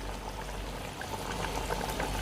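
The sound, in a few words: water poured over chicken for biryani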